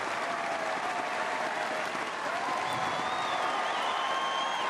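Badminton crowd at the 2014 Commonwealth Games applauding after a women's singles quarter-final win, a sustained, fairly distant wash of clapping and cheering in a large arena, with a faint whistle-like tone drifting through.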